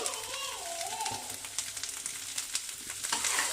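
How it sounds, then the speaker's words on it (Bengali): Spice paste of chili powder, turmeric and a little sugar sizzles and fries steadily in a pan, with soft stirring scrapes over the continuous crackle. "একটু সামান্য জল দিয়ে আমি এই মশলাটা ভালোভাবে আগে কষিয়ে নিই"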